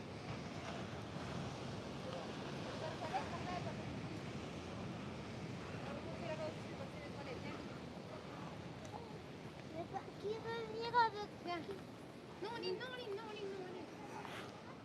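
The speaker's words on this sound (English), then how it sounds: "The sound of the sea." Sea waves washing onto the beach at Playa Paraíso, a steady low surf rumble with wind noise on the microphone, fairly faint and continuous, with some faint voices and birdlike chirps late in the clip.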